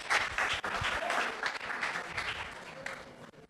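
An audience claps steadily and fairly loudly at a public-speaking workshop for young people, a dense unbroken patter with no talk over it.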